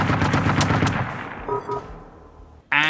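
Defensive guns at a machine base in the video game Generation Zero fire rapid automatic bursts that fade and stutter, followed by a few electronic beeps and a sudden loud blast at the end.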